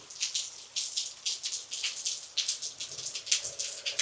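Rain falls hard close to a student outdoors, drops striking the microphone and nearby surfaces in an uneven stream of sharp crackling bursts, with no speech.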